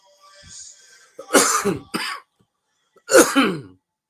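A person coughs and clears their throat several times during a church catechesis session, sharp close bursts: a faint rasp first, then two loud harsh coughs, a pause, and a final forceful cough with a throaty rattle.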